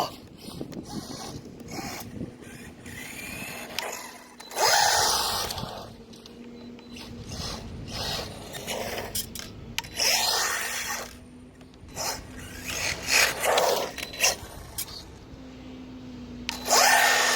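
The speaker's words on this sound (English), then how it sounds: "It's literally grinding anything that's on this pavement." A small DragBug no-prep drag RC car scrapes and grinds across pavement in loud, broken bursts with a steady mechanical whine running underneath, close to the listener, the bursts stopping and starting again over several runs.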